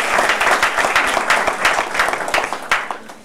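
Guests at a civil wedding ceremony for the Mélion couple break into applause, a continuous, fairly loud crowd clapping with dense overlapping hand strikes throughout.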